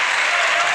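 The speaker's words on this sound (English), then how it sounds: "Fans are cheering." Fans cheer and applaud at a college volleyball match between Trinity University and Whitworth inside Calgard Gym, a steady loud crowd roar held throughout.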